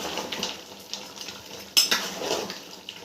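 Utensils scrape and clink against a pot while mutton curry with ginger garlic paste is stirred, a steady close clatter with one sharper metallic knock partway through.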